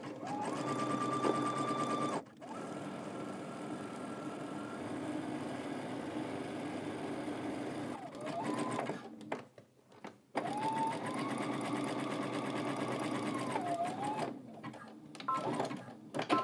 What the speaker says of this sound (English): you're just going to be using your zigzag stitch